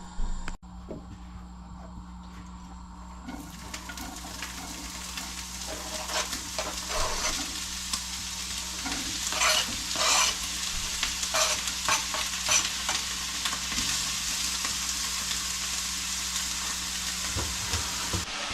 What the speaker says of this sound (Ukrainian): Смажити будемо, як завжди, лучок спочатку, потім додаємо грибочки.